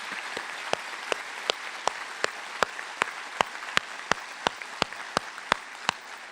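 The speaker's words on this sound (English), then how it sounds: "Go ahead and clap. I can tell some of you want to." At a medical sciences commencement ceremony, a sparse scattering of audience claps sounds in a slow, even rhythm, each clap distinct and fairly close, with no talking.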